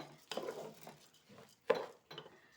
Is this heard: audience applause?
no